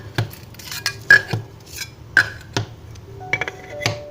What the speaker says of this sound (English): I'm going to clean these glasses and be back.